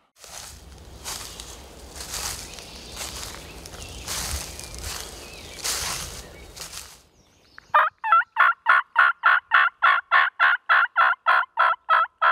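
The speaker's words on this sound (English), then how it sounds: "waiting for the first gobble, or at least the closest first gobble, and that's the turkey I'm going to go after" At dawn in a hayfield, a wild turkey gobbles in a fast rattling series of bursts, loud and repeated. Soft rustling and footsteps come first.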